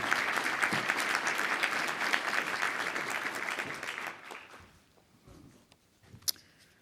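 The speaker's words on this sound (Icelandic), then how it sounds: "það kemur mér eiginlega óvart að þið skuli klappa fyrir mér" Audience applause greeting Iceland's finance and economy minister as he takes the stage at a tax-day event, a loud sustained round of clapping that fades out after about four seconds into a quiet hall with a few scattered sounds.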